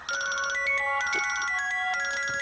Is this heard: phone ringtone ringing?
yes